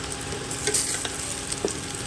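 Food frying in a pan gives off a steady, close hiss of sizzling with faint stirring clicks, no voices.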